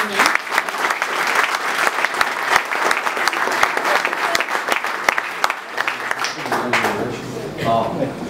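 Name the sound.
audience applause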